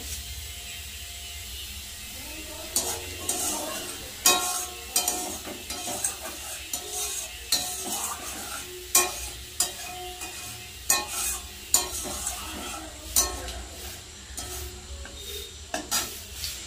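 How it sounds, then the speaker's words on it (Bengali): Bay leaves and whole cumin frying in hot oil, a constant crackling sizzle under repeated scraping stirs and spatula clacks against the pan, close and without speech. "তেলের মধ্যে দিয়ে দেবো তেজপাতা, গোটা জিরে,"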